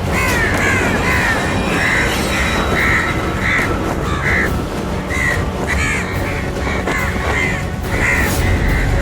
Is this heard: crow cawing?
yes